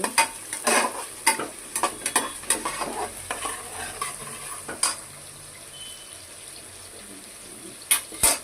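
Onions sizzle in a pan for mutton curry while a spoon stirs them in repeated scraping strokes, close and fairly loud, with clinks against the pan.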